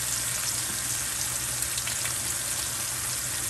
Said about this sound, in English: We're going to fry that up. And I'm going to add a couple of pats of butter to that as well.